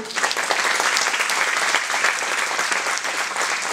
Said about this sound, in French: On va l'applaudir très fort, s'il vous plaît, Anjo Brigo.